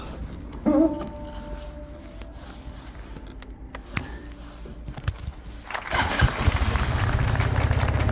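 A Daelim VF100 motorcycle engine, after a battery replacement, cranks and catches at the end. A low rumbling idle builds and holds, following a few clicks and handling noises near the bike.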